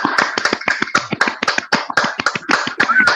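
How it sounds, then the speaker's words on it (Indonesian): At an Indonesian debate event, a group claps in a quick, uneven series of sharp hand claps. The claps are close and distinct, with no talking over them. "Tepuk tangan dulu teman-teman."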